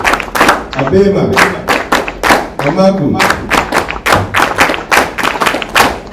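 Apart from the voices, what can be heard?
audience clapping once in response to the call 'Atama'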